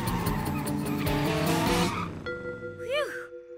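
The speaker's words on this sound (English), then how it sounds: "Guess Mr. Slow and Steady should have hit the brakes." Cartoon car skidding and braking on a road with a pothole, a loud rumbling engine giving way to a rising, wavering tire squeal, close and prominent, with no talk.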